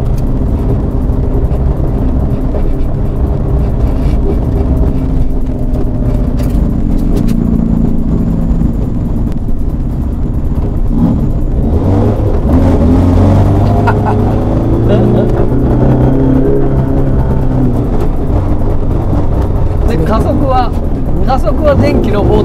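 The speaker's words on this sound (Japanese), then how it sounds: "加速は電気のモーターのトルクでしょ。" A battery-electric Toyota AE86 accelerates on its electric motor, giving a steady low rumble throughout with people talking over it.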